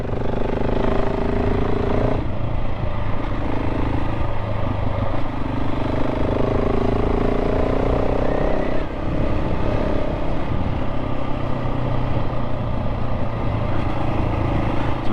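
A KTM 690 SMC-R single-cylinder supermoto engine drones steadily while riding under trees, with a constant close mechanical rumble and shifting pitch as the throttle varies, plus wind and clatter throughout.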